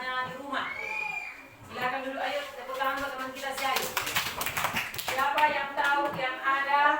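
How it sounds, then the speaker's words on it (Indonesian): A classroom of students claps for a classmate in short bursts of scattered hand claps, heard under and between a teacher's voice and children speaking. "ayo tepuk tangan buat teman kita Syahid"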